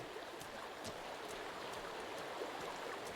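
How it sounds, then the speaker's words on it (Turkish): A waterfall in the video game Sons of the Forest gives a steady, broad rushing wash of falling water, continuous and moderately loud throughout with no talk over it. "Oy şelale."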